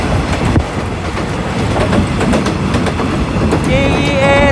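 A GEA 4543 locomotive hauls rapid train 172 through Nong Pradu junction. The rolling is loud and close, with continuous clickety-clack of the wheels and a brief high wheel squeal near the end.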